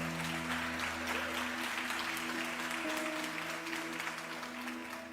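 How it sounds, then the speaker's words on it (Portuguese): A church congregation claps together in a sustained, even round of applause during an evening service, with soft keyboard chords held underneath. "Você pode aplaudir a Ele nessa noite?"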